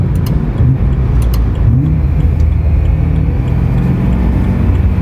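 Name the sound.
BMW M3 V8 at full throttle shifting gears, Nürburgring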